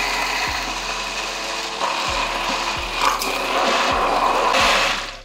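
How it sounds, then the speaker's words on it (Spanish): A handheld immersion blender purees brava sauce of fried tomato and vinegar, a steady loud motor whir with periodic knocks and shifting pitch as the blade works through the mixture, running alone without talk. "Metemos la batidora y nada, lo vamos a triturar bien."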